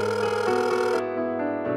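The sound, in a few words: cellphone ringing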